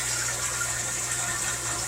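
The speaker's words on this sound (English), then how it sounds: "See, the water's still coming out from the bathtub." Bath water draining steadily out of a bathtub through plumbing, a continuous rushing, gurgling water flow at even loudness throughout with a low hum beneath.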